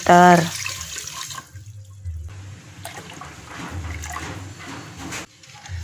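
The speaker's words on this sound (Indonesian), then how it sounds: "Bila sudah, lalu tuangkan air sebanyak 2500 ml." Water, 2500 ml of it, poured into a pot for Nutrijel pudding cups, heard as a steady close splashing stream that eases and swells, after a brief tonal sound at the start.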